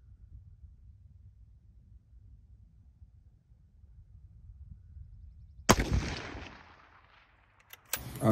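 A rifle fires at a target during tripod shooting practice, a sharp loud report near the end with a long decaying echo, then a second crack, after a quiet stretch of low background rumble.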